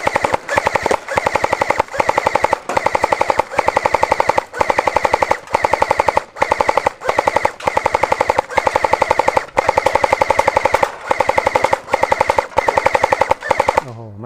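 Automatic BB gun firing at an outdoor range behind a shop, a loud, rapid, continuous rattle of shots in long bursts with brief pauses, running for about fourteen seconds.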